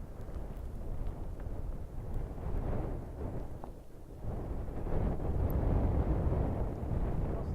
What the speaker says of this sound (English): It's really gusting and it's quite cold.